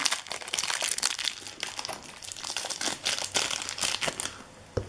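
Plastic packaging crinkles and crackles steadily as a small Ani-chara Heroes One Piece Luffy figure is unwrapped, with dense, close rustling bursts that continue without pause.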